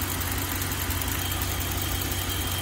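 A Ram 1500 Hemi V8 idles steadily up close, its even mechanical drone carrying a faint, rapid ticking from the engine, with no talk over it.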